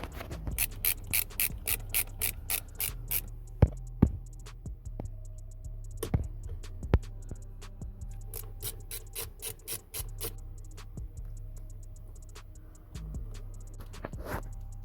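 Torx bolts holding the airbag on a 2003 Mercedes CLK steering wheel being slackened with a ratchet, giving bursts of rapid close clicking with a few sharper knocks and pauses, no talking.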